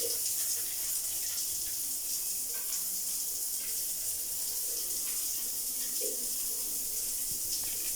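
Water sprays from a shower head in a small home bathroom, a steady hissing rush that carries on evenly throughout, close by, with no voices.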